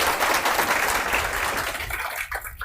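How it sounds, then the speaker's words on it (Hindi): Audience clapping steadily in a classroom during a Bihar police exam-prep polity class, a dense continuous patter that thins out toward the end. "चलिए एक बार जोर से ताली बजा दीजिए"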